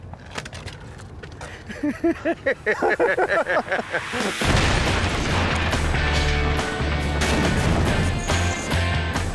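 A crash test dummy is launched from a cannon in a sudden, loud blast partway through, followed by a sustained roaring wash of noise; voices and short bursts of sound come before it.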